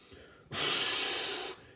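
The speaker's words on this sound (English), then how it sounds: "Nice resonant out breath through pursed lips." A single resonant exhale through pursed lips during a Pilates superman exercise, a close, breathy hiss lasting about a second that starts sharply and fades slightly before stopping.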